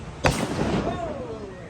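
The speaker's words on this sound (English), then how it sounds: "features my favorite part, the firing of a cannon" A cannon fires a warning shot aboard a Disneyland riverboat ride: one sharp boom with a rumbling tail. Crowd noise and a voice carry on around it.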